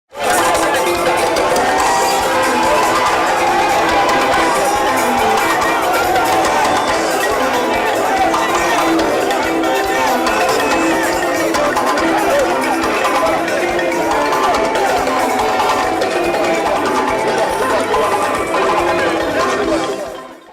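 A large crowd cheers and shouts during the president's Mamaya dance, a loud, dense, unbroken roar of voices lasting the whole stretch.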